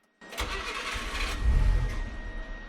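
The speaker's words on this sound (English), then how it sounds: "It might take a crank or two because we replaced the fuel pump to get it to start" Subaru Sambar engine, fresh from a timing belt job and a new fuel pump, cranks briefly then catches and runs, swelling louder for a moment before settling into a steady close idle.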